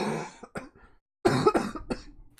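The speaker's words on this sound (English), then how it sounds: "Gotta cough again." A person coughs several times in close, sharp bursts, with a short silent gap between two clusters of coughs, heard clearly alone without any speech.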